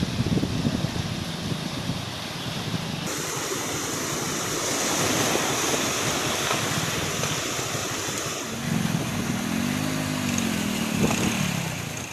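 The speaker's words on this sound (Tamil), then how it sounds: "குறும்பூர் ஏரல் சாலையை மூழ்கடித்தபடி தண்ணீர் செல்கிறது" Floodwater from a breached Kadambakulam tank rushes over the Kurumbur–Eral road, a dense, loud, continuous roar of flowing water mixed with wind noise, with a brief engine-like hum near the end.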